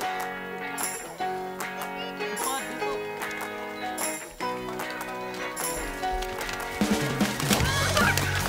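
Geese honk in repeated harsh bursts as village children in Semoyo, Gunung Kidul, Yogyakarta chase them, the calls close and busy over a mix of other noise.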